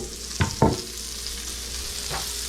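Sausage sizzles in a pan under a soft steady frying hiss, broken by two quick scraping stirs near the start and a fainter one later.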